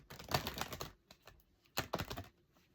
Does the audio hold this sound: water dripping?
no